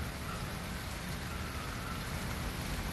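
Steady rain falls outdoors among plants, a dense even hiss of drops pattering on leaves and surfaces, constant and fairly close throughout with no voices.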